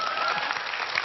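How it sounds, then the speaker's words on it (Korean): Audience applause at a lecture event, a dense burst of many hands clapping steadily at moderate loudness, with no speech over it. "박수 쳐주세요."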